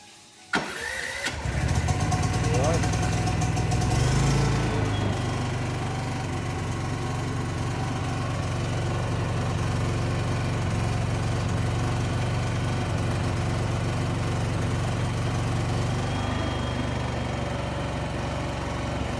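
A PK8000i generator starts by remote: a brief cranking burst gives way to a steady, loud engine drone that runs continuously and close for the rest of the clip, with no talk.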